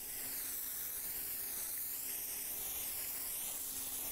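Spray paint hissing from a can in the graffiti game Bombing 2, a steady, even, continuous hiss at low level with no talking.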